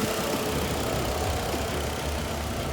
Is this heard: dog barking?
no